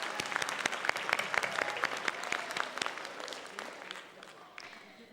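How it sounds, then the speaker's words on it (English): An audience at a graduation ceremony claps steadily, with dense, sharp individual claps that gradually thin and fade toward the end. "let's clap again"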